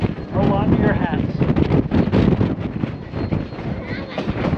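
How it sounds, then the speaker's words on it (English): Strong wind roars steadily into the microphone at a railway curve during a scenic train ride, a loud continuous buffeting rush with a voice talking under it. "Pretty windy, y'all."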